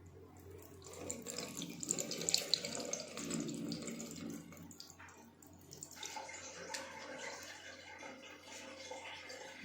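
Tap water runs into a sink while a vinegar-soaked egg is rinsed, a soft, steady splashing stream with small surges and drips, fairly quiet and close.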